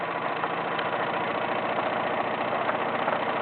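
Wilesco D21 toy steam engine running, a steady, even chuffing and mechanical whirr with a fast regular beat, close and continuous with no voices.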